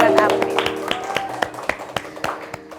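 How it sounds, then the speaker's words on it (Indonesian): A small group claps for a guest on an Indonesian dangdut talk show, with scattered sharp hand claps in an irregular rhythm that fade toward the end, under and between speech. "tepuk tangan dulu buat April."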